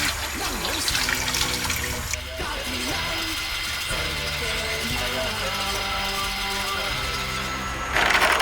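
Water splashes and swirls steadily as it is mixed into a settled, twice-filtered root-starch slurry for Fenghuang goose noodles, a close, continuous watery churning with faint tonal background sounds.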